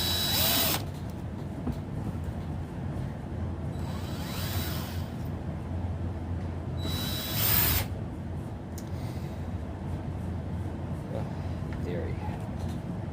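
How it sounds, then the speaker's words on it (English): A power drill running in reverse, pulling a set screw into a nunchuck, whirs in short bursts, spinning up briefly at the start and twice more, under a steady background hum. "with the drill in reverse, it's going to pull the set screw into the nunchuck"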